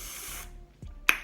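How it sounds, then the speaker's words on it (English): Makeup fixing spray hisses from a bottle onto a contoured face in one brief close burst that fades quickly, followed by a short sharp spritz. "you're just gonna spray a bit of fixing spray on it"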